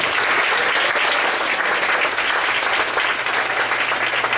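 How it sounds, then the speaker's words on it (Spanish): A church congregation applauds steadily, dense even clapping from many hands filling the space for several seconds without letting up. "Dale un aplauso a Cristo que termina."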